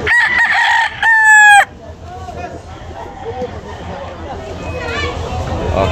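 A rooster crows loudly and close at a chicken market in Carbon, Cebu, one strong harmonic call near the start, followed by fainter crows and clucks amid market chatter and people talking.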